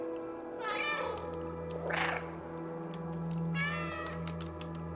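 A cat character in the video game Stray meows three times, each a short rising-falling cry spaced about a second apart over a low steady game hum.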